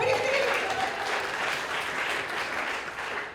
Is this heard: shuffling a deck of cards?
no